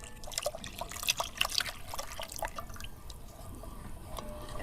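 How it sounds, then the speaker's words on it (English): Coconut milk is poured into a cooking pot, giving soft, quiet liquid splashes and drips in a brief irregular run that thins out toward the end. "I'm going to add the rest of the coconut milk."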